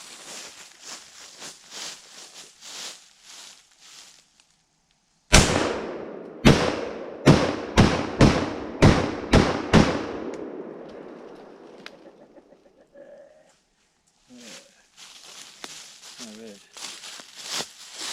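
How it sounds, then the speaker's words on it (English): A Saiga 12 tactical shotgun made by Izhmash fires about eight loud, sharp shots in a fairly steady rhythm, each blast followed by a short ringing decay. Talk is heard before and after the string of shots. "for now, it shoots good."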